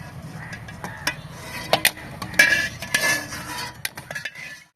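Boiled eggs lifted out of a cooking pot: several sharp metallic clinks and scrapes against the pot, irregular and close, over a low steady background hiss.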